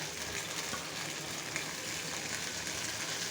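Chopped spring onion stalks fry in a pan for an egg dish with peas, giving a steady, close, even sizzle that runs without pause and without any voices.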